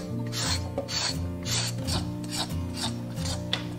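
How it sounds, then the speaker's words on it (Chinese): A peeler scraping the skin off a radish, with repeated rasping strokes at a steady rhythm of about two per second, close and fairly loud with no talking. "首先先把萝卜皮削掉"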